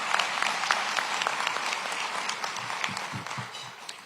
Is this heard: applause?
yes